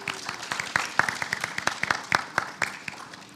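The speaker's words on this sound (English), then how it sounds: "a round of applause for them" Audience at a Tri-M music honor society induction ceremony applauds a group of members, a sparse round of individual claps heard fairly close, irregular and crisp, fading slightly over a few seconds.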